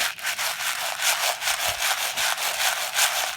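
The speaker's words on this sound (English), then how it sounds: "Let's listen to the sound that the pebbles make." Small pebbles shaken back and forth in a bowl inside a homemade rainstick, giving a continuous gritty rattling hiss that swells and fades in quick regular pulses, close and fairly loud, with no talking.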